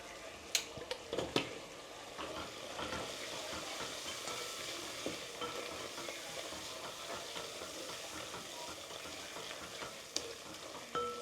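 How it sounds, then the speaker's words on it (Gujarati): Masala spices, turmeric, coriander-cumin powder and a little brown sugar sizzle steadily in a pan, a dense continuous frying hiss with a few sharp clinks of a stirring utensil, no talking. "ચાલો તો આપણે મસાલાને બે થી ત્રણ મિનિટ કૂક થવા દઈએ"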